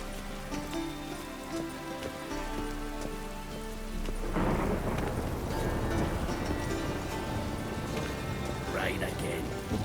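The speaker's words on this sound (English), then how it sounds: "Rain again." Rain falls steadily in The Witcher 3 video game, with a deep roll of thunder swelling midway and hoofbeats clopping beneath, while voices speak through the storm.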